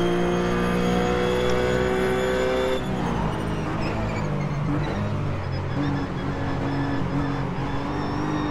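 A RUF race car in the iRacing sim holds a loud, steady engine drone, then drops in pitch on a downshift to second gear and carries on at a lower, rougher tone, close and continuous throughout.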